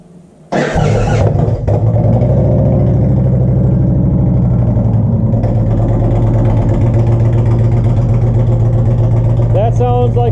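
An Indian Challenger motorcycle fitted with a TAB Performance cat-delete exhaust cold-starts with a sudden crank and catch, then settles into a loud, deep, throbbing idle close to the pipes. The idle runs steady, with a brief voice near the end.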